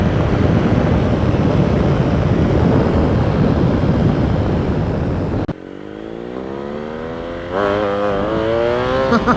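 BMW R 1250 GS Adventure motorcycle fitted with an Akrapovic exhaust, a loud, dense engine roar for several seconds, then a sudden drop to a lower rumble before the revs climb again in rising, stepped pitches as the bike accelerates through the gears.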